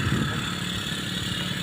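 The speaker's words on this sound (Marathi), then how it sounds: "आपण फवारणी करता स्ट्रोक चायना पंप वापरत आहोत" Small engine of a Chinese stroke-type crop sprayer pump running steadily up close in a soybean and pigeon pea field, a continuous buzzing drone with no pauses.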